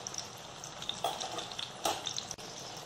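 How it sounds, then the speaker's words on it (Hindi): Bread kabab frying in a pan, a soft, even sizzle close by with a couple of brief scraping knocks as it is turned, fairly quiet and without talk. "अभी इस साइड से भी हम और फ्राई करेंगे।"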